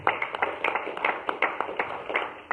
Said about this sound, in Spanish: Denle una ofrenda de palmas al Señor esta tarde